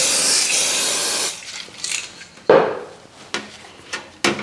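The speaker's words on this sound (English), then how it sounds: "Spray on some layering spray." A loud aerosol hiss of layering spray for model railway scenery sprays for over a second, followed by several short bursts of spray mixed with light clicks and handling noises.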